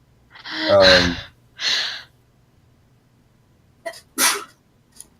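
A sharp, close sneeze with a gasping intake, followed by a second burst and a quick snort-like sneeze a few seconds later.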